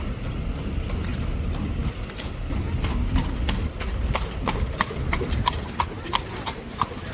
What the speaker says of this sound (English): Here comes the horse trolley.